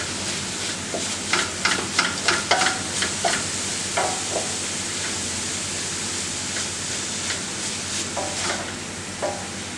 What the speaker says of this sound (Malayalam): ഇനി നമുക്ക് ഇതിലേക്ക് ഇഞ്ചി വെളുത്തുള്ളി പേസ്റ്റ് ചേർത്ത് കൊടുക്കാം